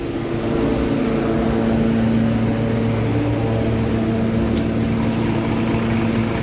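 A Toyota Land Cruiser LC200 engine idles with a steady low rumble and hum, running continuously and fairly close, with no talking.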